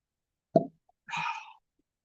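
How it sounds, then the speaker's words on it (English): Cork pulled from a bottle of Keeper's Heart whiskey finished in maple syrup barrels: a single sharp, close pop in near silence, then a short airy hiss. "Let's go ahead, pop the cork."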